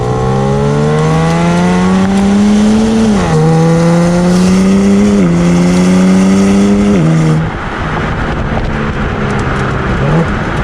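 A 2021 BMW M4 Competition accelerates hard in third gear, its loud engine note climbing in rising sweeps broken by quick shift drops, then settling into a lower, steadier drone.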